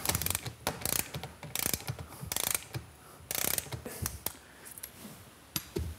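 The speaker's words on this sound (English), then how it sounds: "And now I can remove the top cap, which I'm going to use my socket wrench for." Socket wrench ratcheting while removing the top cap of a Cannondale Lefty bicycle suspension fork, heard as several short bursts of quick clicking separated by brief pauses, close by with no talk.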